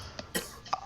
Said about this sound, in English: I'm so overwhelmed I'm coughing in real time.